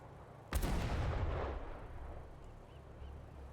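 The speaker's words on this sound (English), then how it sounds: "artillery pieces firing" Artillery pieces firing in the VR shooter Sniper Elite VR: a single heavy, sharp boom that rolls into a long rumbling decay over a couple of seconds, with low battlefield noise lingering afterward.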